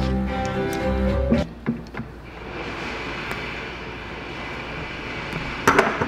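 A power drill spins a part attached to its bit while a pair of custom Jordan roller skates is built, giving a steady whirring drone with a short sharp burst near the end and faint background clatter.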